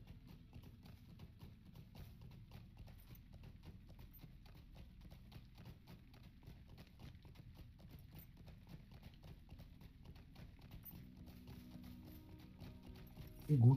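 Rhythmic clip-clop of horse hooves galloping steadily at a moderate level throughout, in the fantasy game Lord of the Rings Online, with a brief louder burst at the very end.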